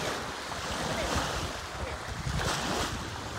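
Surf washing onto a beach in a steady broadband roar, with wind buffeting the microphone, continuous and fairly loud throughout.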